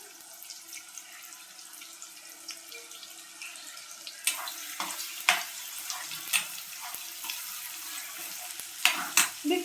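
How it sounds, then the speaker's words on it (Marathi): Onion frying in oil, a quiet, continuous sizzle joined by brief stirring scrapes and clinks that come louder and more often in the second half, with no talking. "तेल कांदा छानसा परतून घ्यायचा."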